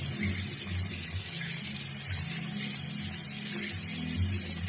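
Water runs from a tap for face washing as a continuous, even rushing stream with no break, steady and fairly close throughout.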